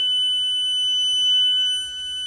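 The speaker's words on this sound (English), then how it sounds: "So I've got this faulty smoke detector that has reached the end of its life cycle" An end-of-life faulty smoke detector sounds a continuous shrill, high-pitched alarm tone, loud and steady with no voices.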